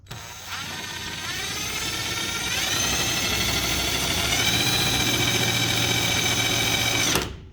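An old, previously abandoned lawn tractor engine spinning up and running, a steady loud mechanical drone that rises slightly in pitch and holds for several seconds before shutting off abruptly.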